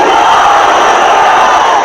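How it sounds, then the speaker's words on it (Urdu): A large crowd at a religious rally roars the Nara-e-Takbir slogan back at a speaker, a loud, sustained massed shout that fills the clip before easing off slightly at the end. "دل کی گہرائی کے ساتھ لگاؤ، نعرے تکبیر"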